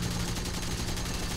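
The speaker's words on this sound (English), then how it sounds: "Those 30mm cannons, man." 30mm cannons fire from an ME 410 B-6/R3 aircraft in War Thunder, a dense, rapid burst of heavy shots pounding in quick succession, loud and continuous with no speech.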